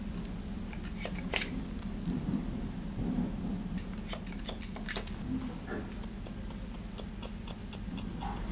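Scissors snip hair in a scissor-over-comb taper during a men's haircut, with crisp rapid metallic clicks arriving in quick bursts over a steady low room hum.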